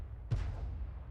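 An SU-26 self-propelled artillery gun fires a single shot in World of Tanks, a sharp close blast that decays into a rumbling tail over steady low engine hum.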